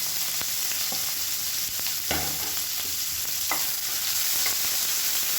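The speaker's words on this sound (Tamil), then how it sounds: "இப்போ இதில் ஒரு கைப்பிடி அளவுக்கு நீளமாக நறுக்கின பெரிய வெங்காயம் சேர்த்துக்கலாம்." Long-sliced large onions sizzle steadily in hot ghee while being stirred for ghee rice, a constant close frying hiss with occasional spoon scrapes and no voices.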